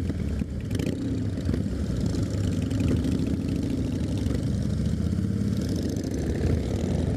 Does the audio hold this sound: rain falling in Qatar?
no